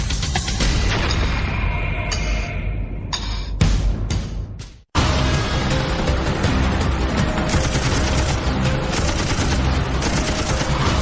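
Sustained heavy 50-caliber machine gun fire, loud and continuous bursts with a brief pause partway through, rattling on without letup.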